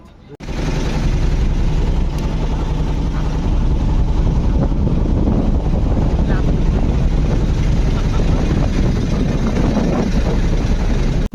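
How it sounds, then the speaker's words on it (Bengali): The engine of a river trawler carrying passengers and bicycles across a river in Bangladesh starts after a brief quiet moment. It then drones loud and steady without letup. "ট্রলারে উঠবো, এরপর আমরা যাব নদীর ওই পাশ।"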